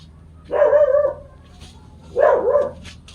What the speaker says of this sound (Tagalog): Yan yung aso kong isa.